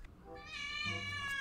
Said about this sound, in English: Shout out to my cat, Nuz.